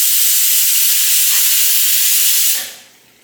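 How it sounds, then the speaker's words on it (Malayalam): A pressure cooker whistle releasing steam, a loud, close, continuous hiss lasting a few seconds before cutting off and fading away. "നമ്മുടെ കുക്കറിലെ ഒരു വിസിൽ പോയിട്ടുണ്ട്"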